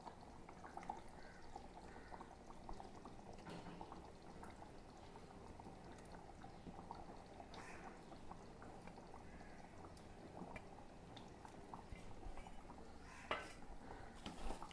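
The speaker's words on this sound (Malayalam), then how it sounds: "ചാറൊക്കെ നന്നായിട്ട് വെട്ടി തിളച്ചിരിക്കുകയാണ്." Fish curry gravy bubbles at a rolling boil in a pot, a soft steady simmering hiss with faint occasional clinks of utensils, no talking.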